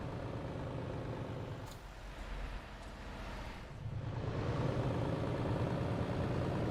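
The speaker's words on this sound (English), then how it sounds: "This is what the old gen engine sounds like now?" Old-generation truck engine in TruckersMP rumbling at low level, briefly dipping with a short hiss before swelling back louder and steadier.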